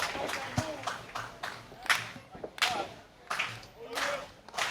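A crowd at an indie wrestling show claps in rhythmic bursts, fairly close, with scattered cheering and a commentator's voice beneath.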